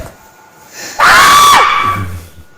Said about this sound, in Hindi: ये चीख किसका है?